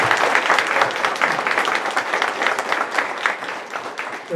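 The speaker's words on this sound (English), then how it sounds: "Please join me in giving them a round of applause" An audience claps for a panel at a talk on AI ethics, privacy and security, a dense sustained round of applause from a room full of people, loud and close throughout.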